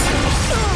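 A forceful Expulsum spell blast in the Hogwarts Legacy video game, a loud, dense crashing burst that fills the moment without any talk.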